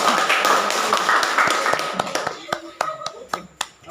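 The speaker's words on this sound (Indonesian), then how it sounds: "Tepuk tangan dulu, tepuk tangan." Classroom applause for a student group: dense, loud hand clapping with a background of voices, thinning out into a few scattered, distinct claps that fade away at the end.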